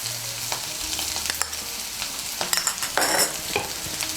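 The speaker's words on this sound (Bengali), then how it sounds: "আদা বাটাটাকে মিশিয়ে নিয়ে উচ্ছেটাকে আর একটু ভেজে নেব।" Sliced bitter gourd frying with ginger paste in a pan for a Bengali dish, a steady loud sizzle close by with a spoon stirring and scraping through it, no talking.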